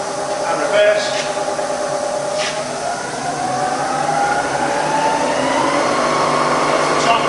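A Bridgeport milling machine with a 48-inch table runs its spindle in reverse at low speed, giving a steady close whir and hiss with faint mechanical whine throughout, no talk over it.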